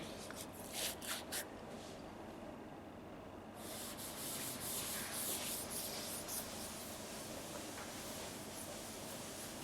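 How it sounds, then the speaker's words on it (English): A diagram on a classroom board being erased: steady scratchy rubbing strokes, several short swipes at first, then a longer continuous scrubbing, close and moderately quiet with no talking. "Let me rub this diagram."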